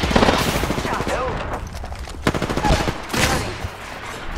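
Dense automatic gunfire crackles in Apex Legends in rapid, loud bursts close by, with fast repeated shots stacking over one another and in-game callout voices heard over the shooting.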